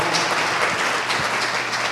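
Applause from a church congregation at an evangelistic mission conference, a brief even wash of clapping heard alone at moderate level.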